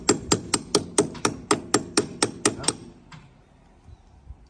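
Roughly a dozen sharp, evenly spaced hammer blows on metal during field repair of a Komatsu PC200-5 excavator that had sat parked for four years, loud and close, then stopping, leaving quiet rustling.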